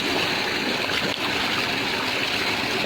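Steady, loud rush of canal water pouring from an electric tubewell in a Punjab village, a continuous broadband flow with no break, children bathing in it but their voices buried under the water.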